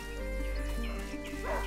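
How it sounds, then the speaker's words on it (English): A hunting dog in A Plague Tale: Innocence gives a few short barks and yips over a steady tonal game-music and ambient bed, fairly faint. "Leo, a hunting dog. It's not supposed to lose its hunter."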